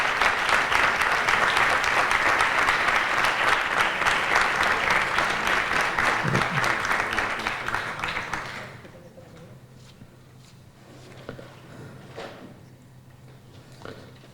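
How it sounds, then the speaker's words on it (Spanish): Applause from a conference audience in La Palma at an ADHD detection talk, with dense, even clapping for about eight seconds before it dies away into near quiet and small scattered sounds. "nosotros pues le agradecemos con un aplauso también la presencia aquí en La Palma"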